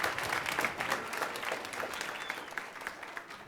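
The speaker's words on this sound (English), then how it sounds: "Please give him a round of applause." Concert audience applauding at a band concert, a steady patter of many hands clapping at moderate, slightly distant level that gradually eases off.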